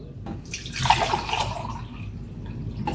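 Water pours briefly into a container while making an oats smoothie, a short splashing gush near the start that fades into quieter trickling, with no talking.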